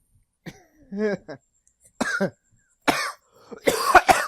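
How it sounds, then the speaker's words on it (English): A person coughs several times in harsh, raspy bursts separated by short pauses, close to the listener and growing rougher toward the end. "that just started as a laugh and ended up as a cough"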